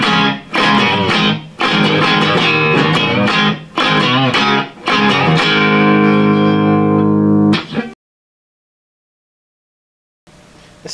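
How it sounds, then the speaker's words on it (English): Electric guitar on the neck pickup through a Rivera Fandango amp with low reverb plays a short phrase of chords and notes with a warm, slightly driven tone, then rings out and stops into silence. "Got the guitar on neck pickup."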